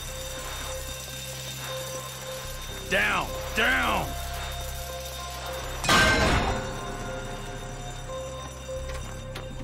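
Bank alarm in GTA 5 during a Blaine County bank robbery, a harsh ringing electronic tone that bursts out in short pulses and one louder blast, with shouting voices over and between them.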